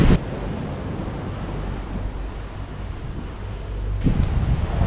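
Rough ocean surf at Hua Hin, Thailand, roars steadily with wind buffeting the microphone and a louder wave surge near the end, with no voices.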